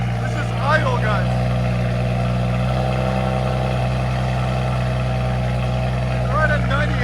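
A tuned 2017 BMW 540i with a 3.0L inline-six, downpipes and a straight pipe idles with a deep, steady rumble up close, while voices talk over it.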